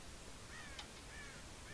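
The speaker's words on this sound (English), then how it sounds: "God damn crows!" Crows caw in the Red Dead Redemption video game, a few short harsh calls repeating at a moderate distance over a steady background hiss.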